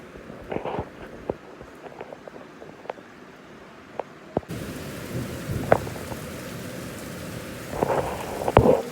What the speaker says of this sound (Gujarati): ચાલુ બી થઈ ગયો આ તો વરસાદ